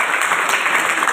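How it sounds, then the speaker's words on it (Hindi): Audience applause during a motivational talk on communication and confidence, a short, dense burst of crowd clapping. "ताली बजा दो।"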